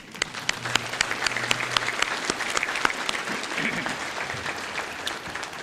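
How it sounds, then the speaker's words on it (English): Scattered clapping from banquet guests at a memorial award dinner, individual sharp claps standing out near the mic over a steadier crowd of applause, with a little murmuring underneath. "So can we give them a round of applause real quickly?"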